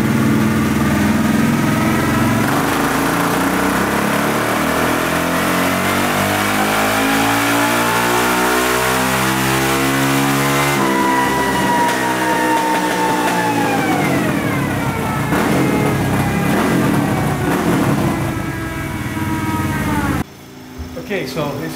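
Honda XR650 motorcycle engine revving hard on a horsepower test with its only pipe, a loud sustained wail that climbs and holds high in pitch, then falls back and cuts off near the end.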